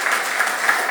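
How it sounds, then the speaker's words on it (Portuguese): Church congregation applauding at a Sunday worship service, a dense, steady patter of clapping hands running throughout the short moment with no voices. "vamos aplaudir o Senhor aí?"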